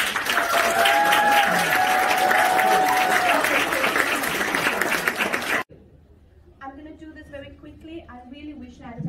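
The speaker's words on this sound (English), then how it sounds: "Can we get a round of applause to show you?" An audience claps at a 2020 World Teachers' Day event, sustaining loud, steady applause for about five seconds before it cuts off abruptly and a person begins speaking.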